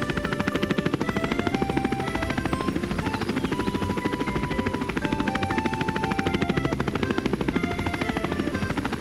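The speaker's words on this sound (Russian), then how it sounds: "Смотри, квадрокоптер поднимается." A cartoon quadcopter carrying a camera rises with a steady, loud, buzzing rotor drone that runs unbroken for about nine seconds, with a constant rapid flutter.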